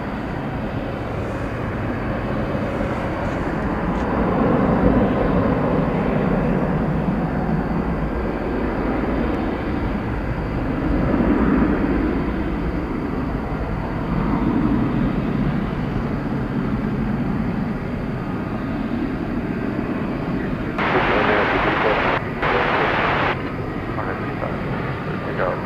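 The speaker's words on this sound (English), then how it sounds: "Volaris, flight number 801 is off to Mexico City there. It's an Airbus A321." Volaris Airbus A321 jet taking off for Mexico City at DFW Airport at night, a loud sustained engine roar rising and falling throughout, heard from a distance.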